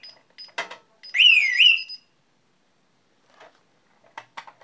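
A zone alarm on a security control panel sounds a short electronic siren, a loud warbling tone rising and falling for about a second, resembling a fire alarm, followed by a few soft clicks and taps.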